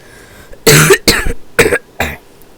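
Four separate harsh coughs come close to the mic in a short uneven burst, each one loud and raspy, with brief quiet gaps between them.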